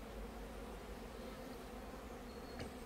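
Honey bees buzzing around a starter hive, a dense continuous hum close by with a single bee passing near at one point, no talking.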